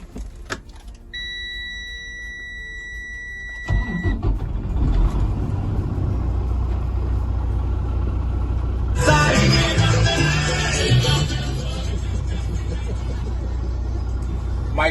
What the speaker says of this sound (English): Now I am going to safely start my truck.